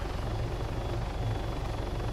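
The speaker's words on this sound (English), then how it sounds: "Well, I suppose I'm now glad I'm in this helicopter." A helicopter in Arma 3 gives a loud, steady rotor and engine roar from inside the cabin, continuous and dense with low throbbing and no talk.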